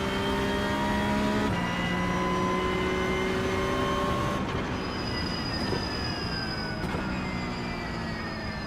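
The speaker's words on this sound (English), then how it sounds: "my issue is getting hung up in the rev limiter" A Porsche 992 race car engine in iRacing at Sonoma, a loud steady high-pitched drone held near the rev limiter, with gear shifts briefly dropping the tone before it climbs again.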